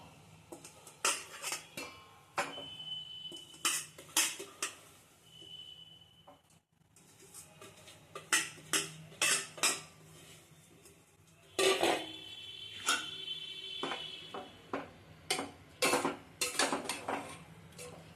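Saucepan being handled while milk and carrots go in for carrot halwa, with repeated sharp metallic clinks and clatters of utensil against pan, close and fairly loud in irregular bursts, no talking.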